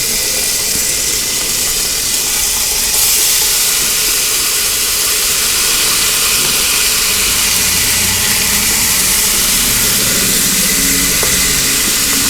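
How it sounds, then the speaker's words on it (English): Bacon cooking in a Cosori multi-cooker, a loud, continuous sizzling hiss with a low rumbling undertone, steady throughout and without speech. "This has to be the first time you've seen bacon in a slow cooker, crock pot, multi-cooker."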